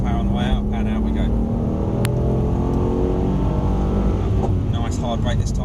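A Mercedes-Benz car powering out of a corner on a race track, its engine a loud, continuous drone that stays close throughout.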